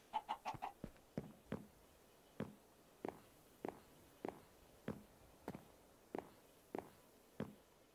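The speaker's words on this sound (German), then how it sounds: "Ein paar Hühner." Minecraft chickens cluck in short, evenly spaced bursts, a quick cluster at the start and then single clucks roughly every half second, close and clear against a quiet background.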